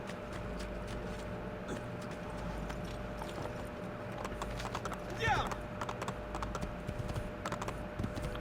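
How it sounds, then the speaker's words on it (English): Rhythmic clip-clop of horse hooves in the video game Assassin's Creed 2 runs steadily under someone talking, with a brief louder burst partway through. "We'll take a horse."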